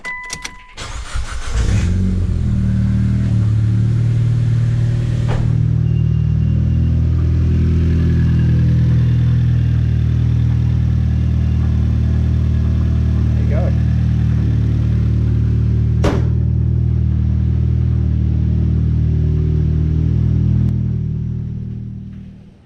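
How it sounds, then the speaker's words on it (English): A Mitsubishi Evo X Ralliart engine cranks and fires up close by after a clean engine-bay wash, then settles into a loud, steady idle rumble that runs for about twenty seconds before cutting off. "I'll start my car up."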